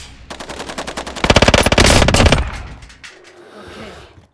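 Rapid automatic machine gun fire in the Call of Duty Warzone video game, a loud close burst of evenly spaced shots that builds to a dense stretch and then cuts off, leaving faint game ambience.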